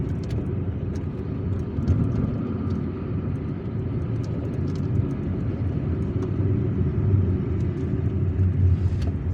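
A car driving along Hassiba Bouali street in Algiers makes a steady, loud low engine and road rumble, with faint clicks and traffic noise over it throughout.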